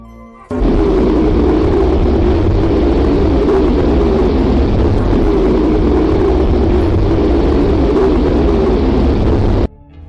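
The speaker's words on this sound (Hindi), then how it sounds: "अब हम आपको अपनी पृथ्वी की आवाज को सुनाएंगे," A space recording presented as the sound of Earth: a loud, steady, dense roaring rush with a low rumbling core, starting abruptly and holding evenly for about nine seconds before cutting off, with no voices.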